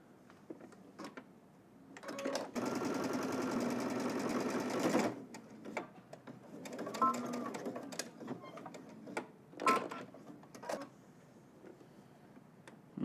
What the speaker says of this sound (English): And now we're just gonna go ahead and top stitch, catching that end on the other side.